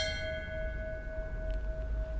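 A memorial bell rung in Tucson to mark January 8th hums with a sustained, steady metallic tone that lingers for the whole moment, with no talking over it.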